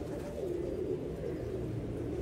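A pigeon coos softly in a low, continuous murmur, faint and steady throughout the short stretch, with no talk over it.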